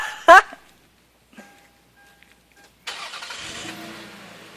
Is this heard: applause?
no